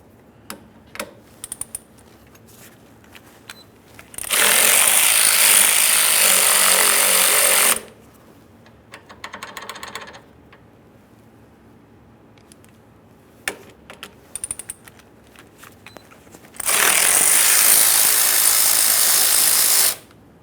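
A 15 mm tool loosens the tie rod sleeve clamp bolts on a 1994-2001 Dodge Ram 1500 in two loud, sustained mechanical bursts, with scattered small clicks and clanks of handling between them.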